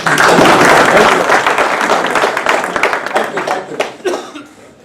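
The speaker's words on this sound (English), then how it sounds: "Can you all give me a round of applause?" An audience at a business talk in Singapore breaks into loud, dense applause that starts at full strength and then thins into scattered claps and light laughter over about five seconds.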